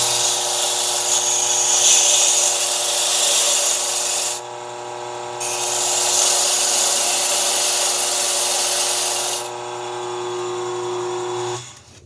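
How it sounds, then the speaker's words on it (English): A spinning wire wheel brush on a key-cutting machine deburrs freshly cut keys, a loud steady rasping scrub with a motor hum beneath, pausing briefly twice as the key is lifted away. "I'm just going to turn on this wheel real quick."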